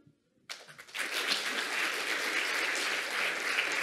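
A conference audience at a PHP forum bursts into loud, sustained applause after a brief quiet moment, the clapping building quickly and holding steady to the end.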